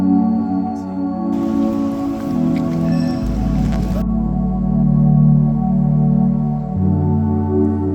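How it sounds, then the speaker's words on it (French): Steady rain patters and drips across surfaces, a dense wash of droplets with a low rumble underneath, continuous throughout. "Étant donné la pluie incessante dans cette ville"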